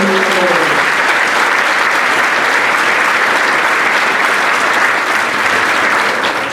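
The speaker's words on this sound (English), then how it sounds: "please, a round of applause" Loud, sustained applause from a large crowd at a high school senior scholarship night, steady clapping filling the space without a break.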